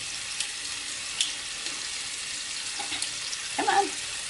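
Sirloin beef strips browning in a pan produce a steady, fairly quiet hiss, with a few light clicks and a brief scrape of stirring near the end.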